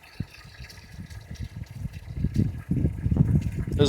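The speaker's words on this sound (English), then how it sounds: "Exactly how you're supposed to fill the cooling system." Water from a hose pouring into the cooling system of a Chevrolet S10 pickup with a rear-mounted radiator, a gurgling, splashing fill that grows steadily louder and fuller over the few seconds, close up with no talk.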